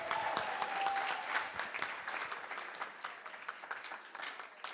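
Wedding guests give the maid of honor a round of applause at a reception, a dense, lively burst of many hands clapping that gradually thins out over a few seconds.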